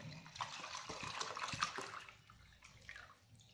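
Water, demineralised or reverse-osmosis, is poured into a laboratory beaker, about 250 ml, a short close splashing pour that fades after a couple of seconds.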